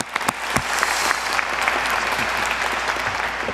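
A crowd at a national defense event applauds for a young reserve officer cadet, a sustained burst of dense clapping with a few louder sharp claps near the start, no talking over it.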